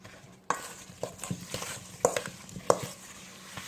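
A spoon stirs nectarine batter in a bowl up close, giving irregular scraping strokes and a few sharper clinks against the sides, with no talking.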